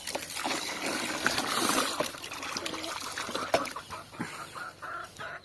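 Water trickles from a pipe from a borewell supply in a steady, splashy dribble, with chickens clucking nearby and faint voices in the background.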